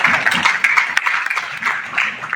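Hands clap unevenly in a college auditorium during a welcome ceremony, a moderate patter of applause with scattered louder claps, while a voice talks over it.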